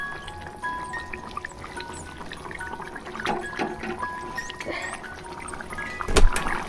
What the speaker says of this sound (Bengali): এই দেখুন, ঝোলটা আমার ফুটতে শুরু করেছে। তো এর মধ্যে আমি মাছের মাথাগুলো দিয়ে দেবো